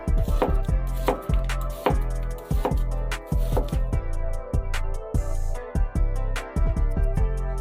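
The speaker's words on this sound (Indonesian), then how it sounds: "Selanjutnya iris daun bawang." A knife slices spring onions on a cutting board with quick, loud, evenly spaced chopping strokes that continue close up in steady bursts, with no talking.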